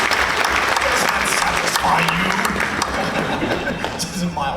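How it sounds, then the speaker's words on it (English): Mild clapping from the audience at a Clone Wars question-and-answer panel at a fan convention, steady scattered clapping with people talking over it. "This is a mild clap."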